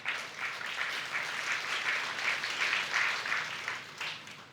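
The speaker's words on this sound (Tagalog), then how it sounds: "parang malata yung palakpak ninyo" A church congregation claps together in steady applause, a dense even patter of many hands that swells and eases slightly and holds for several seconds with no talking over it.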